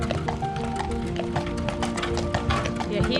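A calm Friesian harness horse's hooves clip-clop in a steady rhythm, close and fairly loud, with a busy background and possible voices.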